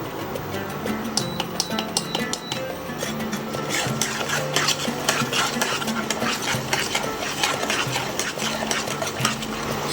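Spice paste for a paneer dish slowly fried and stirred in a pan, a continuous busy sizzle with repeated spoon scrapes and clatter, close and fairly loud, with a low steady hum underneath.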